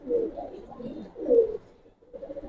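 Giribaz racer and coloured pigeons in a loft give off low, throaty coos in two swelling bursts, fairly close and steady, with a soft murmur continuing between and after them.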